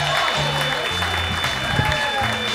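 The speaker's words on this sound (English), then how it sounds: "A big, huge round of applause for Jim Shea" A comedy-club audience gives a warm round of applause for comedian Jim Shea, a continuous wash of clapping with an announcer talking over it.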